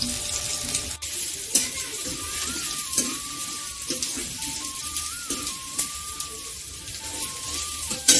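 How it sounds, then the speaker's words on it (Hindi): Onions sautéing in oil for a village-style chicken curry, a dense continuous hiss and sizzle with scattered stirring knocks, loud and close, with a faint wavering tone running underneath. "और प्याज डाल के हम 5 मिनट प्याज को बढ़िया से भूनेंगे।"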